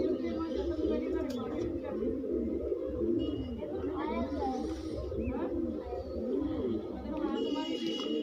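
Pigeons coo in soft, repeated low throbbing calls that continue throughout, with people talking over them.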